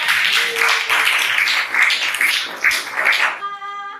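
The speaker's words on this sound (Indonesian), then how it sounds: "Tepuk tangan" Classroom audience in an economics teaching-practice lesson breaks into a few seconds of brisk, fairly loud clapping that fills the room, then cuts off abruptly near the end.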